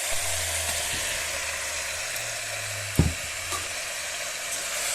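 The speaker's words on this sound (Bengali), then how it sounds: "চিকেন দিয়ে আমি একটু ভালো করে নেড়ে করে নেব দিয়ে দিচ্ছি আলু ভেজে রাখা" Chicken and fried potatoes being stirred in spiced oil, with a steady hissing sizzle throughout and one sharp clank of a utensil against the pan midway.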